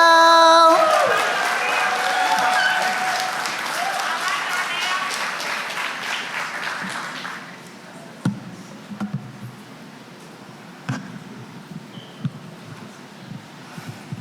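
A conference audience applauds a speaker being welcomed on stage at a software engineering event, loud sustained clapping that fades away after several seconds, followed by a quiet room with scattered knocks and small handling noises.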